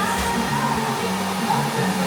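A hair dryer blows hair straight at a child's birthday party, a loud, continuous airy whoosh that holds steady throughout.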